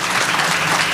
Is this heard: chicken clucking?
no